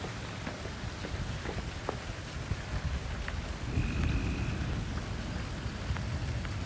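Steady rain pours around a porch during a tornado-warned thunderstorm in Robertson County, Tennessee, a dense, constant hiss that swells slightly louder midway, with no voices.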